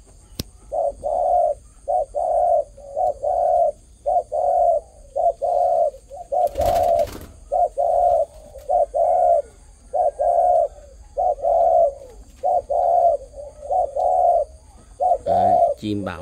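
Doves coo in a steady repeating rhythm, about a dozen close, loud calls evenly spaced, with a brief rustle or thump partway through.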